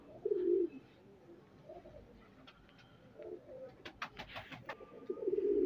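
Ali wala and Teddy breed pigeons, a male and a female, give soft, low rolling coos at the start and end, with faint fluttering and light clicks between, close and quiet.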